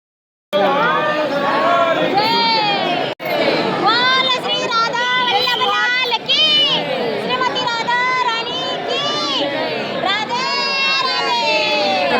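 A dense crowd packs the Radha Vallabh temple in Vrindavan, with many overlapping voices, shouts and calls forming a steady, loud babble from start to finish after a sudden onset.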